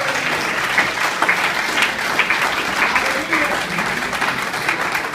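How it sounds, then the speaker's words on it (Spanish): A church congregation applauds during a sermon, sustained even clapping from many hands filling the room, with a voice faintly audible beneath. "Un aplauso para el Señor Jesús."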